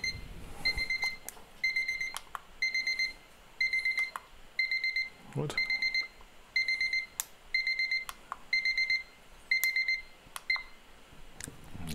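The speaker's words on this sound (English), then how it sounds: "It's a 15-minute timer off for some reason." A 15-minute household timer alarm goes off indoors, sounding repeated bursts of rapid high beeps in a steady on-off pattern, with brief speech and a few clicks in between.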